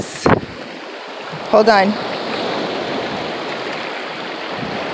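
Ocean waves washing up onto a sandy beach, a loud, continuous close rush of water and wind over a brief spoken phrase and a short burst of talk.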